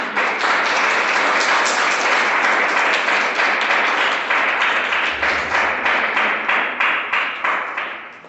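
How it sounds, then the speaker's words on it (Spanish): A church congregation claps loudly and continuously, dense applause filling the room before gradually thinning into slower, rhythmic claps toward the end. "Vamos a dar un fuerte aplauso a nuestro Señor Jesucristo."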